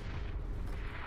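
A deep, rumbling explosion from a War Machine grenade launcher in the Black Ops 4 video game, a brief dense blast that fills the moment with low roaring noise, close and loud.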